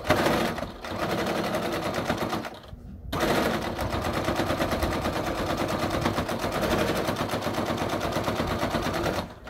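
A sewing machine rattles through a long run of top stitching on a small Christmas stocking-stuffer gift, pausing briefly near the start before continuing at a fast, even pace.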